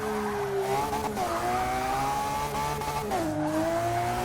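Engine of a high-performance stance-build car in Forza 6 revving hard as it accelerates, pitch climbing through gear shifts with a brief dip, loud and continuous with faint tire noise.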